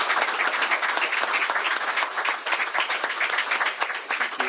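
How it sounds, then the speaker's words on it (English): Lively applause from a crowd at a governor's bill signing ceremony, many hands clapping in a dense, crackling burst that holds strong throughout, close and loud with no voices over it. "give him a round of applause as I sign this into law"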